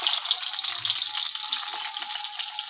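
Cut eggplant pieces sizzle steadily in hot oil in a pan, a close, continuous frying hiss with no one talking.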